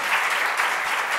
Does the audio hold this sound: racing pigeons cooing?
no